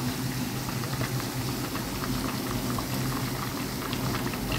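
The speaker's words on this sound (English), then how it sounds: "Now it's boiling." Mujaddara simmers at a full boil in a pot, a dense steady bubbling and popping heard close and alone, with no pause or change.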